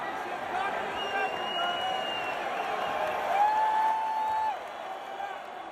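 A crowd cheers and shouts at a BKFC bare-knuckle fight event, a sustained roar of many voices with whoops rising over it, fading a little near the end.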